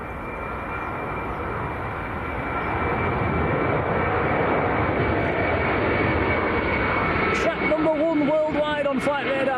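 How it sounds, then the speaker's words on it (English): Airbus A330 jet rolling down the runway on takeoff, a loud sustained engine roar that swells and stays strong, with voices talking over it near the end. "A330 on the roll"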